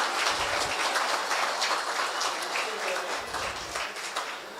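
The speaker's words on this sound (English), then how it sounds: "give a huge warm applause to our first keynote speaker" Audience at a decentralized fintech conference applauding the first keynote speaker, a sustained wash of many hands clapping that fades slightly toward the end.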